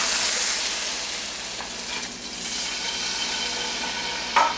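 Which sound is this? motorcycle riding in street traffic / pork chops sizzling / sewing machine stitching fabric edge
pork chops sizzling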